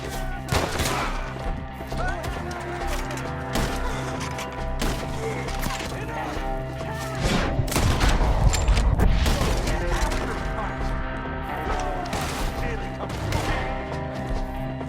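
Gunfire rattles through a Red Dead Redemption 2 shootout: dense, overlapping volleys of rifle and pistol shots, with heavier bursts near the middle, under loud shouted game dialogue throughout.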